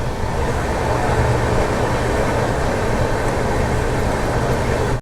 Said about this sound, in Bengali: রাঁচি বন্দে ভারতের সঙ্গে দেখা হচ্ছে আমাদের রাঁচি বন্দে ভারত